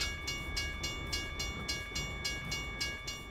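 A train in American Truck Simulator rolls past with a steady rhythmic clack of wheels over rail joints, evenly spaced beats under a constant rumbling hum, close and unbroken, with no voices.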